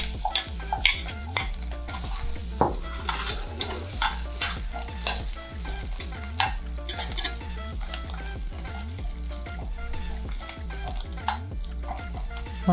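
Onion and ginger stir-frying in oil in a pan, with a steady loud sizzle broken by frequent scraping stirs and utensil clatter throughout.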